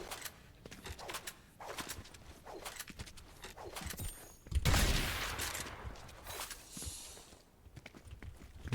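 Scattered gunshots in a video game, a few sharp cracks spread over several seconds and capped by a louder burst midway, set among softer footstep-like movement sounds at a moderate distance.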